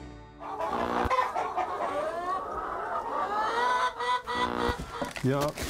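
Hens cluck and chatter continuously in a henhouse, a busy overlapping flock close by with a few louder squawks, while a person speaks over them.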